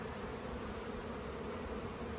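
Honey bees buzz around an open hive while frames of food are moved into a full-sized hive, a dense, steady drone held at an even level throughout.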